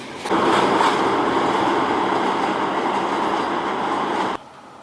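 A freight train loaded with scrap metal and steel rolls past in Ruse, Bulgaria, a loud, steady rumble with rattling wagons that holds evenly and then cuts off abruptly near the end.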